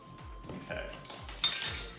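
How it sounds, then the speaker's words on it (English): A whisk scrapes and taps rhythmically against a bowl of dry ingredients with salt mixed in, a run of soft repeated strokes ending in a brighter clinking burst, close and fairly quiet. "So let me whisk it again"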